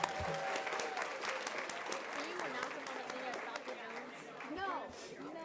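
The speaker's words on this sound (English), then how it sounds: "let's give one more final applause for our 6 teams who went to state" An audience at a county school board meeting applauds students and teams who reached a state competition, continuous clapping filling the room with scattered cheers and voices mixed in.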